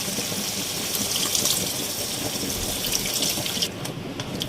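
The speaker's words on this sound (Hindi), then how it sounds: "अब हम इसमें शामिल करेंगे थोड़ा पानी।" Water pours steadily into a chicken handi cooking on the stove, a continuous close gushing splash that thins slightly near the end, with no talking.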